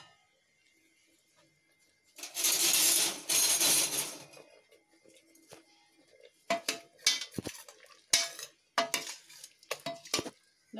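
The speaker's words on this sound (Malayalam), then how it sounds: "കുക്കർ തുറന്നു നോക്കാം" Metal pressure cooker in a home kitchen being opened: a loud two-second rush of hissing steam, then a series of sharp metallic clanks and clinks as the lid is handled, close and without talk.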